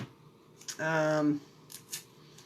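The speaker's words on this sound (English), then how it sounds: "Scissors, which I did get out and brought over specifically for this." A single short snip of scissors cutting tape, close by, with quiet rustling around it.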